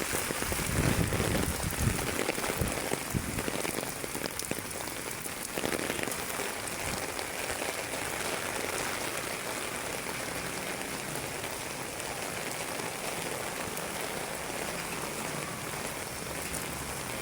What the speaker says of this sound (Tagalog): Walang tigil ang ulan, mga idol.